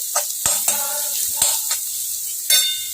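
A spice mixture sautéing in a pan for soybean rolls sizzles steadily while a utensil stirs and scrapes it, giving several sharp clacks and scraping bursts spaced irregularly over a constant frying hiss; no talking.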